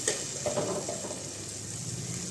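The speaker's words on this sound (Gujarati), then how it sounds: "હવે આપણે ટમેટાની પીળી નાખશું તમે ટમેટા કટિંગ કરીને પણ નાખી શકો અને સરસ મજાનો એક એને હલાવી લઈશું" Tomato puree sizzles in a pan while being stirred, a steady wet frying hiss with a few soft scraping strokes early on, no talking.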